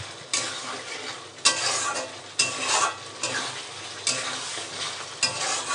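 Egg curry masala stirred in a pan, with rhythmic scraping strokes roughly once a second over a steady close frying sizzle.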